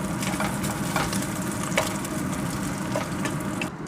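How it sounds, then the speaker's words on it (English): Bacon frying in a pan until it browns, a steady crackling sizzle with scattered sharp pops of spattering fat, close and continuous, with no talking over it. "Cook the bacon until it starts to brown."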